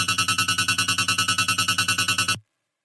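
Two layered, distorted hard trap synth basses play together in a fast, even pulsing rhythm of loud, gritty repeated notes with reverb, then stop abruptly.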